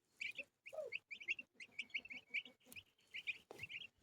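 Chickens at a country dacha cluck and peck nearby in a quiet, rapid series of short, bright calls and soft chirps, with brief pauses between bursts and no talking.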